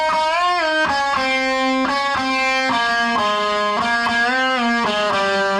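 Distorted electric guitar playing the solo from a song: loud, sustained lead notes with bends and slides, continuous and up close, with no voices.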